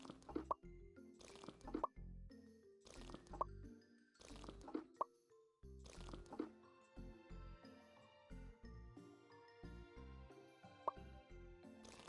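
Plants are watered in the video game Magical Greenhouse, a run of soft plopping, squishing drips repeating in quick bursts, faint and alone with no talk.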